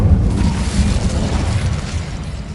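Fiery blast of an Incendio fire spell in the Hogwarts Legacy video game, a loud low rumbling burst that roars steadily for a couple of seconds with no voices over it.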